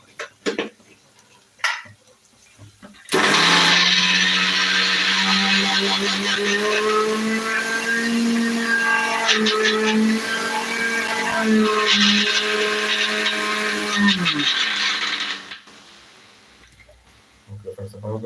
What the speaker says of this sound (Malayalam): മിക്സി വെച്ച് ഒന്ന് അരച്ചു കൊടുക്കാം